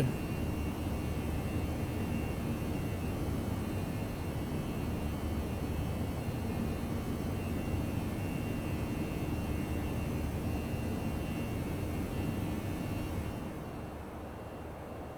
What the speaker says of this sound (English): Turn those engine sounds down.